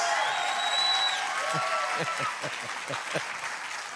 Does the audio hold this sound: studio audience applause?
yes